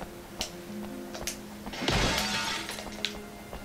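Glass shatters in the survival horror game Obscure with one loud, broad crash and a short ringing tail, set among faint scattered clicks and a low ambient hum.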